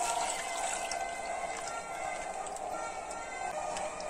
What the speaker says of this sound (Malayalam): ഇപ്പൊ 3 പാക്കറ്റ് പാൽ ഇതിൽ ഒഴിച്ചിട്ടുണ്ട്.